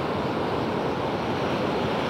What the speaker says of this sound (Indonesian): lautan lepas